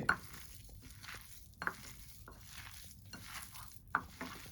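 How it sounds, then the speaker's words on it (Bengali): Boiled potatoes being mashed and mixed with spices in a bowl for aloo paratha filling: soft, close squelching and pressing sounds in a slow repeating rhythm, with occasional light taps against the bowl. "এটা আলুটাকে আমি ভালো করে ম্যাশ করে মেখে নেব"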